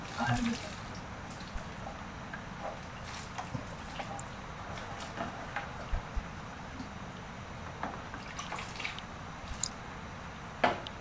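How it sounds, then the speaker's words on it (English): Cold water splashes and drips while small lumps of handmade butter and a container are rinsed during traditional butter and cheese making in Bhutan, producing soft squishing and trickling throughout. "then we'll put all the small butter inside by rinsing it with the cold water"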